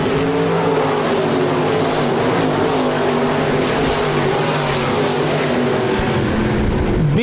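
Stock cars racing two and three wide at Park Jefferson Speedway, a loud sustained roar of several engines packed together, steady and close throughout with a pitch shift at the end as cars pass.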